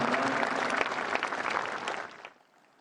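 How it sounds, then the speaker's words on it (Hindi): Dense audience applause at the Kartavya Bhavan inauguration with the Prime Minister, a steady, loud clapping crowd that tapers off and fades in the final half second. "एक बार पुनः तालियों के उद्घोष के साथ इन पलों का अभिवादन करें"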